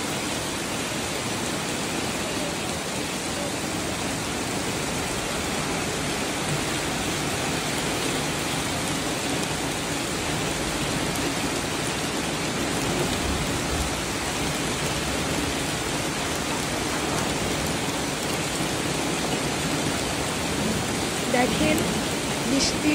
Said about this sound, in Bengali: দেখেন বৃষ্টির শব্দটা এত সুন্দর লাগছে